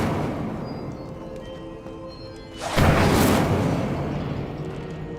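An Incendio fire spell cast in the video game Hogwarts Legacy: after a low ambient hum, a sudden loud whooshing burst flares up and slowly fades into a rumbling tail.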